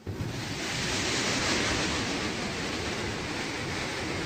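Water plunges down at Gundala Waterfalls in a dense, continuous roar, close and loud, swelling slightly in the first moment and then holding steady without any voices.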